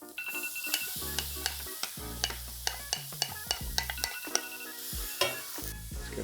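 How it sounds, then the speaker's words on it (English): Beetroot with scallions cooks down in a pan: a bright sizzle runs under repeated rhythmic scraping strokes of a spatula, close and fairly loud, with no speech. "So the reason we're cooking the beetroot down is just to remove a bit of the moisture"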